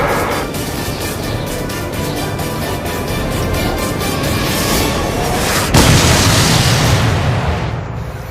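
Drone-launched weapon from a Predator C Avenger UAV exploding on impact, a dense rumbling roar with a sharp burst near the end, loud and close, alone without talk.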